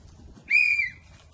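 A single sharp whistle blast, used as a signal during field work, sounds loud and close for about half a second over a quiet background.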